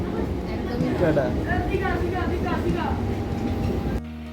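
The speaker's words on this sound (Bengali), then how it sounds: "ট্রেনটা তেমন একটা লেট করলো না ঠিক সময় মতোই পৌঁছে দিল আমাদের দীঘা স্টেশনে" A passenger train bound for Digha rolls along with a steady, close rumble and rhythmic clatter, while voices murmur faintly in the carriage until the sound cuts off abruptly near the end.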